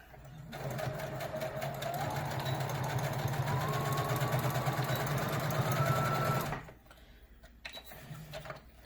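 A sewing machine chain pieces face mask fabric in one continuous close run of rapid whirring stitches that rises slightly in speed, then stops abruptly, leaving a few faint clicks and handling noises.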